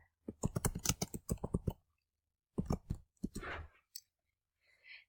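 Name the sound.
typing a website name on a computer keyboard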